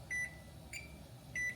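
Three electronic timer beeps sound against a quiet hum, two long steady tones with a shorter one between them.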